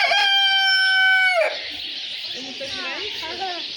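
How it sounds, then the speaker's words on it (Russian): A black rooster crows loudly and close, one long harmonic cock-a-doodle-doo that breaks off, followed by fainter clucking and chatter from other fowl in the background. "Вот такой шикарный черный петух."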